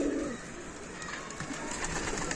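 Adana pigeons cooing close by, a soft low throaty coo at the start followed by a quieter murmur of birds and light background rustle, with no talking.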